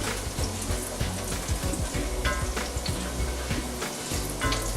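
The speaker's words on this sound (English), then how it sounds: "So we're just going to do this for about 30 seconds here. Just sweat the garlic." Garlic sweating in a hot pan, a dense close sizzle and crackle running steadily throughout with small pops and stirring scrapes.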